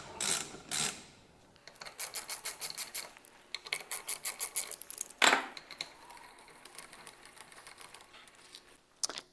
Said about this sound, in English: we loosen the 3 retaining clips from the valves